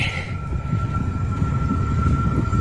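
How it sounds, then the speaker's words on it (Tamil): A train passing by, a steady low rumble with a thin high whine running through it, sustained and fairly loud, with no talking. "ட்ரெயின் வேறு போயிட்டுருக்குன்னு நினைக்கிறேன்."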